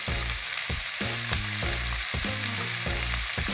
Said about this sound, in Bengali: দিয়ে একটু ভাজবো